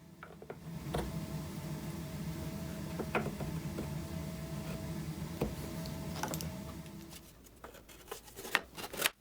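Trimming a small ledge off a custom guitar body produces a close, steady scraping hum broken by sharp ticks and clicks, growing busier with quick snips near the end.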